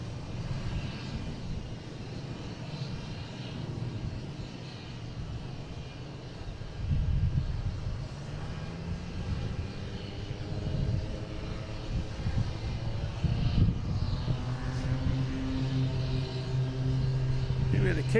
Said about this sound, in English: have United taken off to Chicago 737